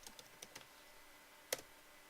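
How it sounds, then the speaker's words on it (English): Keys click on a computer keyboard while a name is typed into a LibreOffice document, a few quick, faint, close taps and then one sharper, louder keystroke. "You're going to begin by typing your name"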